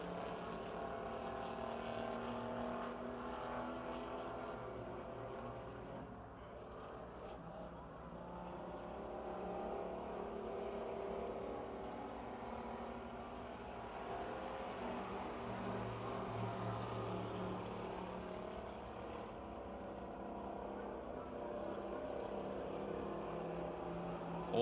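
Stock race cars running a six-lap parade at Pennsylvania Motor Speedway near Pittsburgh, a continuous drone of engines heard from a distance, steady and moderately loud throughout.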